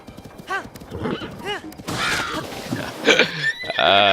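A horse in The Legend of Zelda: Breath of the Wild, a descendant of Zelda's big white horse, gives several short nickers and whinnies, close up, over clopping hooves, ending in a longer loud whinny.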